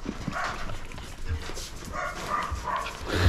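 Dogs barking in a home with many dogs: several sharp barks in an irregular series over a few seconds, mixed with a background voice and light movement.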